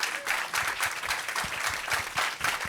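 Audience clapping at a climate session of an ideas festival, a steady wash of many hands applauding together, moderately loud and continuous throughout.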